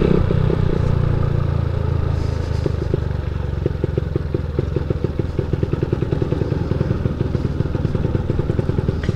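A 160cc carbureted motorcycle engine tuned for alcohol with a 65.5 mm piston runs steadily up close, a loud rough idle with rapid clattering pulses and a worn, slipping clutch, with no talk over it.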